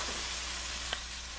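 Hot sauce hits pan-cooked vegetables for pork and vegetable Wu-Mu noodles, producing a steady, close, loud sizzle throughout with one small crackle partway in.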